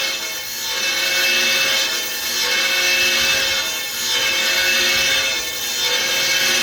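MVM LA 500 circular knife grinder running steadily, a loud continuous broadband grinding hiss with slow periodic swells as the wheel passes over the blade, no voices.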